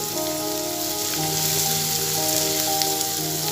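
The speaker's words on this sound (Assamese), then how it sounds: "এতিয়া আদা নহৰুখিনি 1 মিনিটমান সময় ভাজি ল'ম" Ginger garlic paste fries with onions in oil for a dhaba-style mixed dal. A steady, close hiss of frying continues throughout, with a sustained tonal hum underneath.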